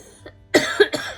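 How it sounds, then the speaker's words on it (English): A person with cancer gives a quick burst of close, dry coughs, about three sharp hacks in a row in an otherwise quiet room. "I apologize for coughing"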